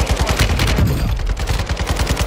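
Rapid shotgun blasts in a video game, a loud, evenly spaced string of sharp close-range shots fired one after another with no pause.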